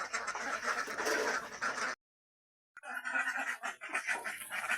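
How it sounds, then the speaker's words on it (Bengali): Ducks feeding on a mash made with vegetables give close quacks and wet, scratchy dabbling noises. The sound breaks off for a moment of silence, then the busy feeding resumes. "সবজি দিয়ে বানানো খাবারটা এখন হাঁসকে দেওয়া হচ্ছে"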